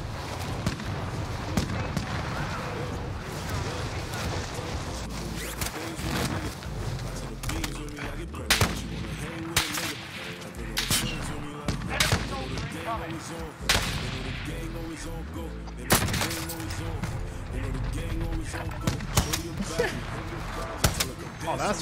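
Repeated gunshots and heavy blasts fire at the player in a shooter game, irregular bangs and bursts throughout, with someone talking over them.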